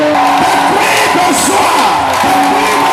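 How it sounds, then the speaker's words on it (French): A youth conference crowd shouting cries of joy in worship, a loud mass of overlapping yells and whoops filling the hall, with strained voices rising and falling. "pousser des cris de joie pour le Seigneur"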